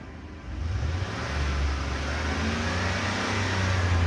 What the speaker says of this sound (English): And I'll let you listen to the engine.